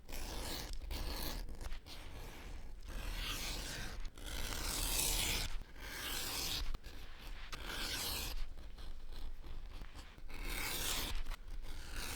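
The cut edges of a leather bag made with an acrylic template are finished by hand, producing bursts of close scraping and rubbing strokes separated by short pauses, with no one speaking.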